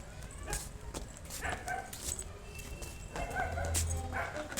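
A dog barks in several short, sharp bursts with small yips between them, fairly close in a quiet household setting.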